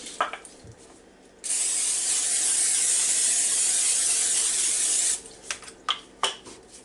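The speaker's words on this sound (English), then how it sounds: "Spray it with Pam." A steady hiss of Pam cooking spray into an 8 by 8 baking dish runs for a few seconds, with light clattering of the dish before and after.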